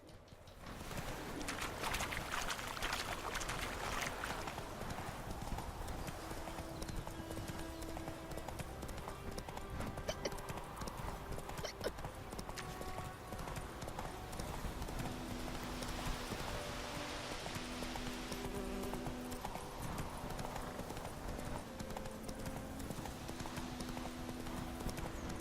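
Horse hooves clip-clop steadily at a gallop in The Witcher 3, a continuous rhythmic thudding with game ambience, faint bird calls and background music layered around it.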